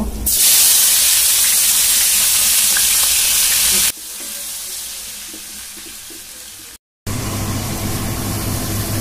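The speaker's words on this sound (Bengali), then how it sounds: "পেঁয়াজ দিয়ে নেব।" Onions sizzle loudly in hot oil in a pan after spiced boal fish has been fried, a steady dense hiss that drops to a quieter fry, cuts out briefly, then resumes.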